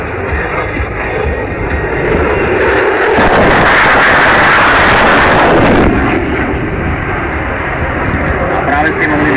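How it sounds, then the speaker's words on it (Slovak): Thunderous roar of a Eurofighter Typhoon's twin Eurojet EJ200 engines in afterburner during an air show at Piešťany in 2009. The blast swells to a loud peak over several seconds as the jet passes, then eases off, with crowd noise beneath. "krásny svetelný a zvukový efekt prídavného spaľovania dvojice motorov Eurojet EJ200"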